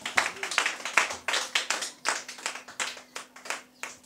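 A church congregation claps in acclamation at a service, a steady run of loud, rhythmic hand claps about twice a second with a low hum underneath, no voices over it.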